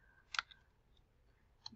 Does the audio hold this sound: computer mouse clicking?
yes